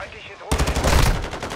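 Machine gun fire in Call of Duty MW2 (2022) bursts in abruptly after a quiet moment, a loud, rapid, sustained stream of shots close up.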